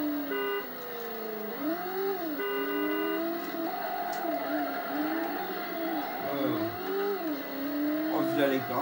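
Engine revving with pitch sweeps from a car doing a burnout in the Driver PS1 video game, a steady game-engine drone rising and falling under continuous talk, with brief horn-like tones.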